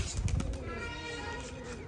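A pigeon coos in low, throaty murmurs, mixed in with a person talking close by throughout.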